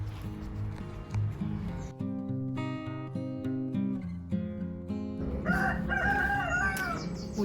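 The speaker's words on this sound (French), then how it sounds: "Oui, monsieur le coq." A rooster crows on a garden plot with a greenhouse and tomato plants, its call rising over ongoing music-like background sound, fairly close and clear for several seconds.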